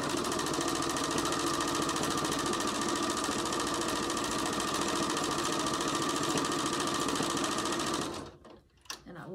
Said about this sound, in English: Now I'm gonna come back to where I had stopped sewing a minute ago and I'm gonna go back about an inch